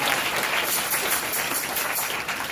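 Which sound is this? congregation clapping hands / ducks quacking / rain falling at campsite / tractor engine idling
congregation clapping hands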